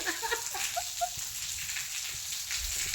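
Rain falls in a constant soft hiss, with scattered drops pattering on a surface nearby.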